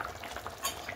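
Paneer masala is stirred in a pan, a brief close scraping and sizzling sound with soft clinks, no talking.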